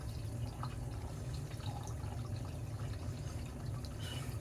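Water from a washing machine turned on its side drains in a continuous faint trickle and splash with occasional drips, steady throughout.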